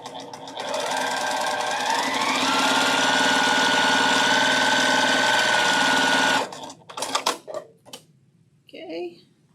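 A sewing machine stitches fabric pieces together in a steady, loud mechanical whir for about six seconds, then stops, followed by a few rustling handling sounds.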